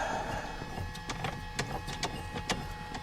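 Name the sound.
Mu-2 aircraft elevator pitch trim motor running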